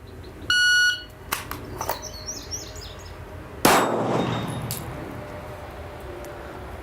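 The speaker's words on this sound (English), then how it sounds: "you wait for the buzzer" At a gun range, a shot timer gives a short, sharp electronic beep once, followed a few seconds later by a loud clanging impact that rings out and slowly fades.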